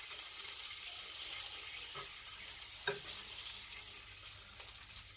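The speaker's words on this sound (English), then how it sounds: "we're going to go with a streaky bacon on top of there" Streaky bacon sizzling on a griddle for a smashburger, a soft steady crackling hiss with a couple of faint clinks, quiet and close with no talking.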